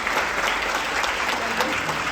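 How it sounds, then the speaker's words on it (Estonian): Audience applauding after a dance performance, dense continuous clapping from a crowd filling the space, steady and fairly loud throughout. "Nii et veel üks suur aplaus,"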